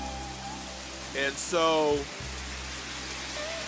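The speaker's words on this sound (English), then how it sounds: "it's been kind of non-stop rain since it stopped snowing" Steady rain falls during a Minnesota spring, a constant broadband hiss that runs throughout, with a low steady hum beneath and a brief stretch of voiced sound near the middle.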